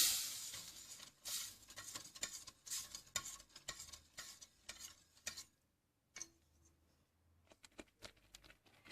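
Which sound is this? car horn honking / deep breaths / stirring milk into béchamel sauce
stirring milk into béchamel sauce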